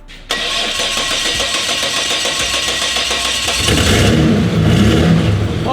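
A turbocharged VL wagon engine cranks and catches, then settles into a loud, rough running note before revving harder and louder toward the end, close up with no talking.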